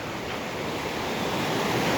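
Ocean surf at Puerto Vallarta ahead of Hurricane Roslyn, a continuous broadband wash of waves with wind noise buffeting the microphone, steady and fairly loud with no distinct individual breaks.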